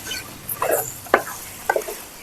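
Chicken frying in oil in a pan for a dhaba style curry, with a few short, soft sizzling scrapes as it is stirred, separated by quiet pauses and no talking.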